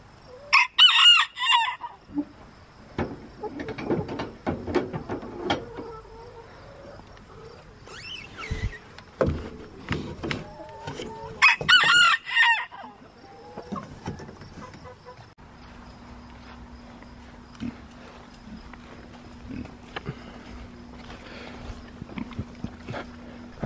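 Roosters crow several times and hens cluck in between, with quiet gaps and a low engine hum in the later part.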